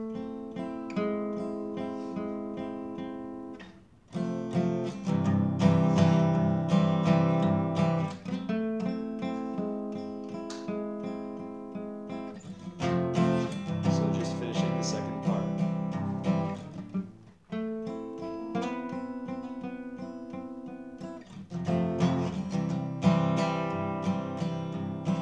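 Guitar plays the chorus of a song, strummed chords in a steady repeating pattern of two-bar phrases, close and clear with no talking.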